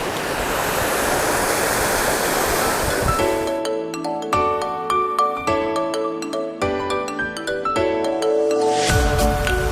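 Rushing water from Curug Cikanteh waterfall in Ciletuh Geopark, at low flow, heard as a broad steady roar for a few seconds before being cut off by a tonal electronic melody, then briefly returning at the end.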